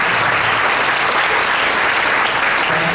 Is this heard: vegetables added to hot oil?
no